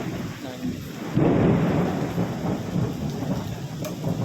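Steady rain pours down while a loud roll of thunder breaks in and rumbles on, close and heavy, with a faint voice barely audible under the downpour.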